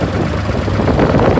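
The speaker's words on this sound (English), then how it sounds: "Little gas engine tractor starts right up." A small gas-engine Ford 3400 series tractor runs steadily at idle during an auction in Montana, with a continuous, fairly loud engine rumble and no breaks.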